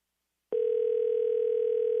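A steady electronic tone on an outgoing telephone call cuts in abruptly after a short silence and holds loud and unbroken to the end, with no voices.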